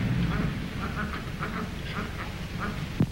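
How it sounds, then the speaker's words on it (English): A duck quacks in a 1930 film scene, a few soft, moderately close calls over a low background hum, ending with a brief louder sound. "Here's the duck now."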